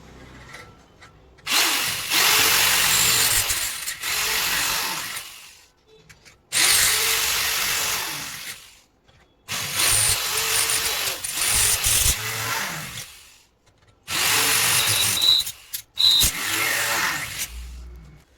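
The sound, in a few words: power drill drilling steel percussion instrument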